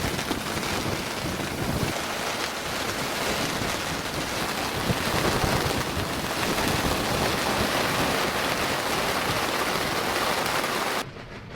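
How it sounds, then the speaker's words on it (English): Steady heavy rain with gusting wind at sea, a dense continuous wash of noise throughout, cutting off abruptly near the end. "with the wind and the rain outside"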